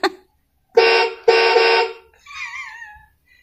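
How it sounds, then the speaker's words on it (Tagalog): A toy car's horn honks twice in sustained, buzzy blasts, close and loud, followed by a softer warbling electronic tone. "Ayan, may busina pa."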